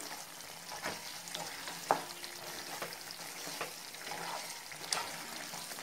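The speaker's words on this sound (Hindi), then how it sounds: "हम डालेंगे हरा धनिया और इसे एक बार अच्छे से मिक्स कर लेंगे" Chicken with green chillies and fresh coriander gets stirred in a hot pan for a Mughlai-style chicken changezi. There is a soft, continuous frying hiss with occasional scraping knocks, fairly faint and without talk.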